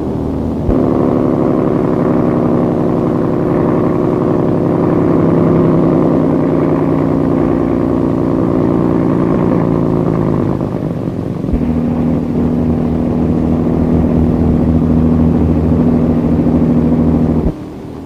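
An old boat's engine pushed to full speed drones steadily with a low hum, loud and continuous, with a brief dip near the middle before settling back into a constant motor tone.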